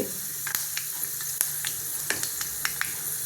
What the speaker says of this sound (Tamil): வெந்தயம் போட்டாச்சு, கடுகு போட்டாச்சு